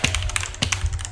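Rapid, uneven computer keyboard typing during a Freestyle 2 street basketball match, with close, sharp key clicks in quick bursts over a low background hum.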